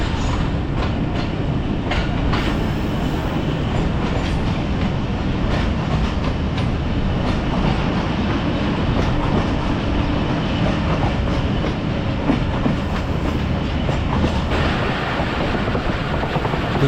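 The Tezgaam Express rumbles along rails between Wazirabad and Lahore in Pakistan, a loud, continuous roar of wheels and carriage noise that stays dense and steady with faint clattering.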